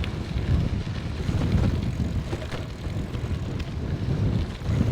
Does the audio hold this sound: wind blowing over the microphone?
yes